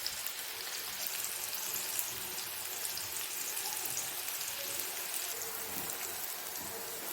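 Raw plantain pieces fry in hot oil, giving a soft, even sizzle that patters like light rain and stays steady the whole time. Nobody speaks.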